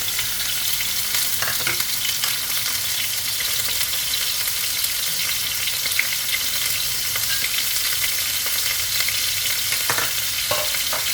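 Small squid stir-fry in a hot pan, a loud constant sizzle and crackle with occasional scraping from stirring, running steadily throughout without speech.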